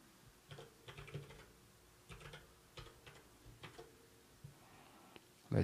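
A password is typed on a computer keyboard while adding a camera to camera-station software, with quiet, close key taps in short irregular bursts separated by brief pauses.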